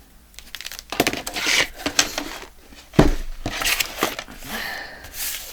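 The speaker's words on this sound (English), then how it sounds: "I do need to cut just a slight bit off down here." Trimming a small piece off a recycled soap box journal gives close, crisp crinkling and cutting crunches in irregular bursts, with a sharp snap partway through.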